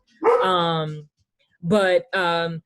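A dog near a microphone during an online panel discussion gives three loud, drawn-out barks or howls, the first longer, then two quick ones after a pause, with no talk over them.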